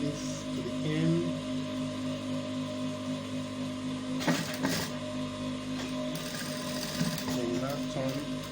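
A sewing machine stitches a school uniform in a steady, continuous mechanical whir, with a few brief clattering bursts partway through and a voice talking over it.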